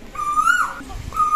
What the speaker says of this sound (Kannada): ಕೋಗಿಲೆ ಕೂಗ್ತದಲ್ಲ ಮಗ